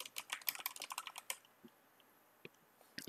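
Fast, crisp clicking of keys on a computer keyboard, a quick burst of close keystrokes followed by a quiet pause and a few isolated taps.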